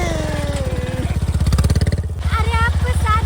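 A motorcycle engine runs steadily up close, its throbbing pulse continuous under a voice talking in Maithili over the ride.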